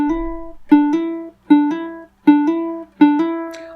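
Ukulele scale notes played with hammer-ons come in five evenly spaced pairs, each a plucked note followed quickly by a softer hammered note, close up with no talking.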